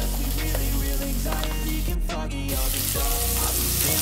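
Meat frying in oil in a pan in an abandoned call shop, stirred so it won't stick, with a loud continuous sizzle and a brief hiss burst midway, heard alone without talk.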